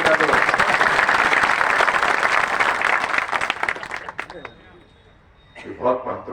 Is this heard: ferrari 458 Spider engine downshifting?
no